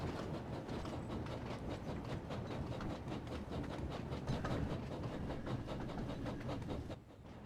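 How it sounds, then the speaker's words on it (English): A video game train in Thomas and Friends: Wonders of Sodor rolls steadily past with a continuous rumble and rhythmic clickety-clack of wheels, fading slightly as it ends. "Wait for the tail end of the train to pass."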